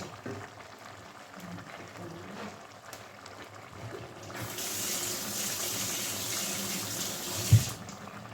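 Water runs from a tap in a steady hiss that starts partway through and continues for several seconds, ending with a soft clunk.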